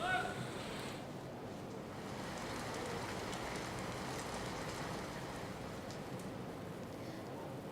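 Steady rain hisses down in a dense, even patter over Ahmedabad in the early morning, carrying on without a break, with no voices.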